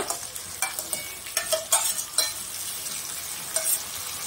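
Ginger and garlic paste frying for mutton kosha, a continuous sizzle broken by repeated scraping strokes of a spatula in the pan, close and fairly loud, with no talking.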